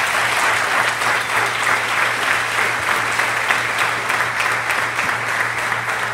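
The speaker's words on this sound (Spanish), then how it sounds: "Quiero que le demos un fuerte aplauso" A church congregation in Barquisimeto, Venezuela breaks into loud, sustained applause, a dense steady wash of clapping filling the room with no break, and a low hum runs underneath throughout.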